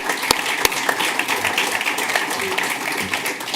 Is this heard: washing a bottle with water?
no